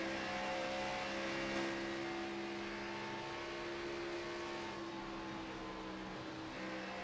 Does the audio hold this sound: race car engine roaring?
yes